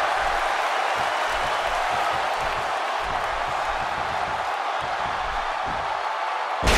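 A wrestling arena crowd in the WWE 2K16 video game roars steadily as a dense, continuous wash of cheering and noise, with low thumps beneath and a brief louder burst at the very end.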